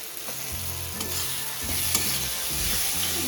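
Bhola fish masala sizzles in oil as a spatula stirs and scrapes the pan, giving repeated soft knocks over a steady frying hiss, close and quiet with no voices.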